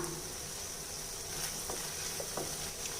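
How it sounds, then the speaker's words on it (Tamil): Tomatoes and onions sauté in a pan for a mixed-vegetable chutney, with a steady, soft sizzle and a few faint taps and stirring sounds throughout. "நம்ம சேர்த்த தக்காளி, வெங்காயம் எல்லாமே நல்லா வதங்கிருச்சு"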